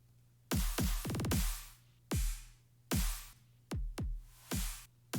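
Heavily saturated, compressed drum kit hits, thick and dense with sustained, squashed tails; booming kicks, a fast roll and snappy snares in a loud, driven pattern.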